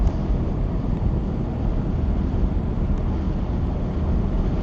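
Wind noise and turbulence while riding a Suzuki GSX-8TT motorcycle, a continuous loud low rumbling roar buffeting the microphone throughout, steady with no pauses and no voices.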